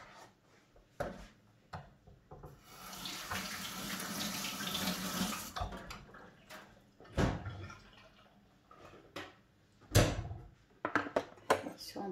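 Kitchen tap water runs into a sink to soak sliced radish and cucumber for a vegetable side dish, a steady gushing stream lasting a few seconds, bracketed by clatters and knocks of handling.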